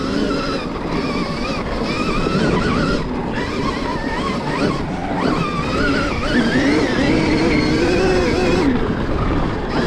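A Stark Varg electric motocross bike rides off-road through deep terrain, a steady loud whine with shifting pitch under heavy broadband rumble and wind noise, continuous throughout.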